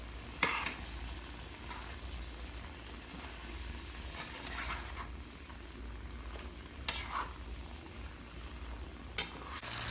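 Chicken stir fry being tossed and combined in a pan produces a soft, low sizzle with scattered clinks and scrapes of the utensil against the pan.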